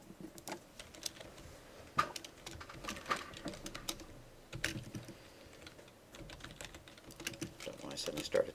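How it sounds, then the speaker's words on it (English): Rapid keystrokes clatter on a computer keyboard through a lecture on string handling, a steady run of close clicks with brief pauses and bursts, and a voice talks faintly underneath. "Don't know why I suddenly started typing in caps."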